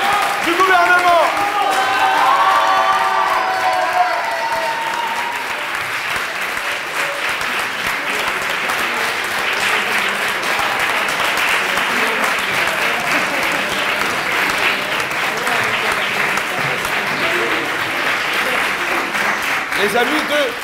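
Sustained applause from a crowd at a French debate tournament final, honouring the government team; dense, steady clapping fills the whole stretch, with voices faintly mixed in near the start.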